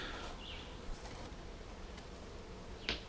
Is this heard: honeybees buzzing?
yes